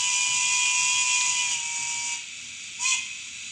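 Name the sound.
quilled whistle effect, Bachmann DCC On30 HK Porter 0-4-2 locomotive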